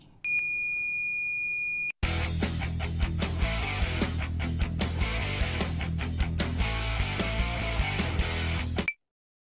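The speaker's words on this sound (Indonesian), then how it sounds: "saat sensor dimiringkan, maka buzzer akan berbunyi" A loud, continuous electronic buzzer of a tilt-sensor alarm blares for several seconds after a brief tone, then cuts off abruptly, with faint clicking underneath.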